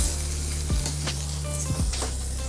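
Steak sears in a smoking-hot pan on maximum heat, a loud continuous sizzle close by with brief bursts of spatter and some low clattering, no voices.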